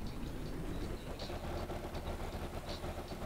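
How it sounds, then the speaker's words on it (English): A submarine's main diesel engine runs in a video game, a steady, dense low rumble that holds evenly throughout with faint higher mechanical hiss, close and continuous with no voices. "So here comes the main engine."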